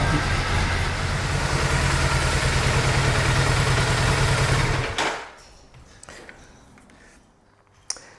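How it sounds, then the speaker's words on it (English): A Triumph Bonneville motorcycle engine idles with a steady, loud low rumble for about five seconds, then cuts off, leaving quiet room noise with a few faint clicks. "it says to let her idle for 15 minutes"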